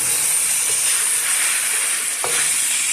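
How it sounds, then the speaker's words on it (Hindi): Orange bell pepper frying in a pan for chili chicken, a steady loud sizzle and hiss with occasional stirring scrapes, no voices. "अभी हम इसमें ऑरेंज बेल पेपर जो है वो फ्राई करेंगे।"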